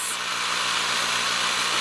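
Steady mechanical whir of an electric drill spinning a yarn winder as yarn winds onto a spool, a continuous loud drone holding evenly through the last rotations with no talking.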